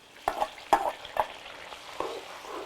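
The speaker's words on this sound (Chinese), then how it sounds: "锅里头剩点底油哈，把泡菜和大蒜倒进来" Pickled peppers and garlic tipped into a little leftover oil in a wok sizzle loudly, with three sharp scraping stir strokes followed by a softer one as the frying hiss continues.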